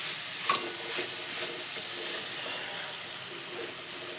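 A pan of pumpkin curry is stirred over soft bubbling and a quiet hiss, with a series of light scraping strokes at a steady pace and no voices.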